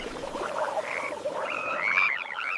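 Frogs croak in an Egypt plague scene, a chorus of overlapping throaty calls and higher trilling notes that rise and fall continuously at moderate loudness.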